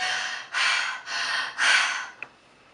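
Four loud, breathy inhales and exhales follow one another closely, each a rough rushing breath, with a small click near the end.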